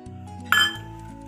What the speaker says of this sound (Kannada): ಇದನ್ನ ಒಂದು ವಿಸ್ಕ್ ಅಲ್ಲಿ ಮಿಕ್ಸ್ ಮಾಡ್ಕೊಳ್ಳೋಣ ಚೆನ್ನಾಗಿ।